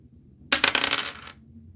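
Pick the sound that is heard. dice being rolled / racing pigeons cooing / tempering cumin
dice being rolled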